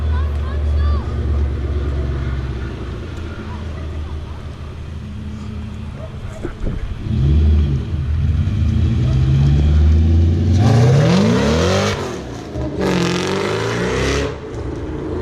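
Ford Mustang GT, a Terminator-swapped 2001 GT, revving loudly at a car meet, deep engine rumble building into rising, sweeping revs toward the end, close and powerful.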